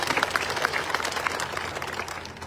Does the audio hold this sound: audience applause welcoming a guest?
yes